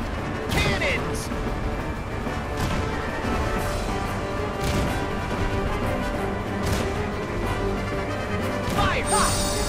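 Cannons fire in a Kingdom Hearts 3 battle, a run of sharp booming blasts and crashes over busy game music and effects, with no talking.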